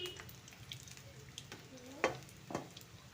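Badam puri frying in hot oil, a soft steady sizzle with faint bubbling and a couple of sharper crackles near the end, fairly quiet and close with no talk.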